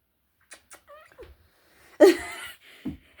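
A pet cat lets out a loud, sudden meow near the middle, preceded by a few faint, scattered quieter sounds and followed by a short softer call; no talking.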